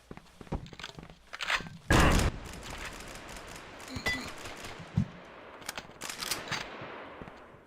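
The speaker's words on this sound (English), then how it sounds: "I'm going to go over here and go hit him with the old tactical shotgun" Tactical shotgun blasts in the War Brokers shooter game, several loud separate reports with one heavy boom near the two-second mark, spaced among scattered footsteps, thuds and other game noise, with no speech.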